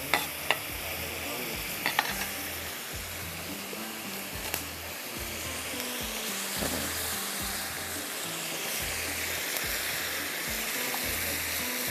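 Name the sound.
slit green chillies added to a frying pan for anda chana biryani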